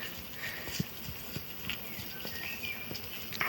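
Horse hooves clip-clop in a steady, unhurried walking rhythm, fairly close, with a soft outdoor hum behind them.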